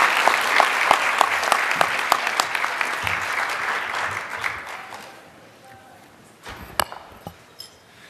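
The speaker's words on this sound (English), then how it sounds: "so it's all right to clap for them" An audience at a research symposium volunteer awards ceremony applauds loudly and steadily, then the clapping thins and fades to a few scattered claps, with a couple of sharp knocks near the end.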